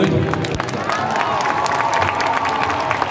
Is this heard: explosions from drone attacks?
no